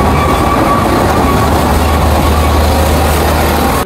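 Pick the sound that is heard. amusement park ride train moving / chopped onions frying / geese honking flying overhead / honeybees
amusement park ride train moving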